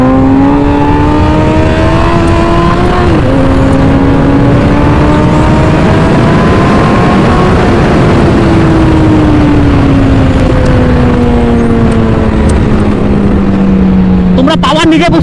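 A Suzuki Hayabusa motorcycle fitted with a K&N air filter revs hard during a power test, its loud close engine note climbing and falling in long sweeping pulls, with someone talking over it.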